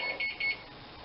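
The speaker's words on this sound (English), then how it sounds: "That sound you heard is the stove letting me know that it has reached" An electronic stove beeps on reaching 375 degrees: three short, high-pitched tones in quick succession, faint and a little distant, over a soft background hiss.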